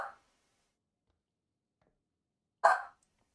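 A dog barking right after being let out of its crate indoors, two short, sharp barks spaced a few seconds apart with silence between, close and clear.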